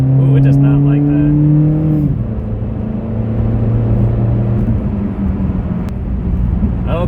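A Mitsubishi Galant is floored from a standstill and struggles to shift out of first gear. Its engine drones loudly with a steady tone that drops once around two seconds in, while people talk over it.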